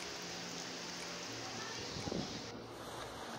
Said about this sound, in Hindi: ये बारिश हो रही थी, आहिस्ता आहिस्ता कभी रुक जाती थी कभी हो जाती थी तेज़ तेज़